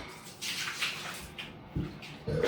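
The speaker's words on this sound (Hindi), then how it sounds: "बाल्टी में ठंडा पानी भरो।" Cold water runs steadily into a bucket, a continuous close hiss and gurgle with a few louder splashing surges toward the end.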